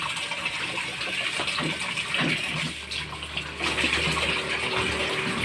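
Water gushes steadily from a tap into a basin or tub while a child is bathed with plenty of water and soap, a continuous close splashing flow with no talk.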